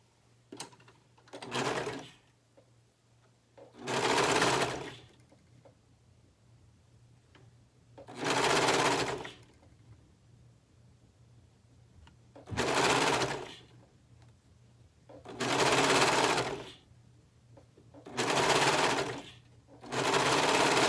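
Sewing machine stitching a shirt cuff onto a sleeve, running in seven bursts of rapid, even stitching about a second or two long, separated by quiet pauses, close and clear.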